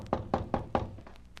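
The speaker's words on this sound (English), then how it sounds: "I walked up the stairs and knocked on the front door," Four firm knocks on the front door of an old frame house, evenly spaced and close, each a hollow wooden thud, followed by a faint trailing tap and quiet room tone.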